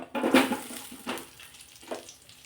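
Chopped onion hitting hot oil in a kadhai, with a few sizzling bursts that fade into a soft continuous fry, close up with no talking.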